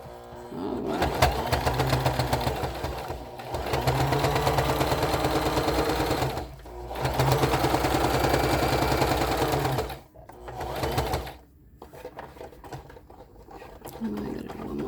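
A sewing machine stitches an invisible zipper onto a pillow, running loud and steady in several long bursts separated by brief pauses, with no talk over it.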